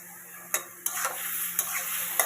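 Taro pieces frying in spiced oil in a pan for hilsa curry, a steady soft sizzle broken by several sharp scrapes of a utensil stirring them, moderately quiet and close, with no voices.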